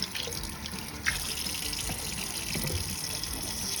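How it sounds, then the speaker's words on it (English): Hands being washed under a running kitchen tap, a steady close rush of water with splashing and shifting flow, no talk. "wash my hands"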